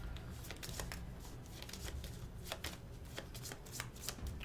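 A deck of cards is shuffled steadily during an Aeon's End Legacy tabletop game session, a continuous soft riffling and flicking, faint and close, with no talk over it.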